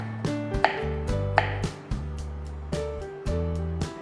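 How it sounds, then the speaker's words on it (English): A knife cutting carrot into julienne strips on a board, with steady firm chops and a few sharper knocks, close up and alone without talk. "Cut carrot into julienne pieces."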